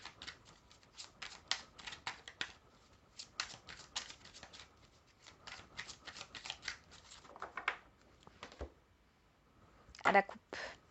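Tarot cards are shuffled and cut at close range in soft, quick bursts of riffling and slapping, quiet overall, with a sharper flurry near the end.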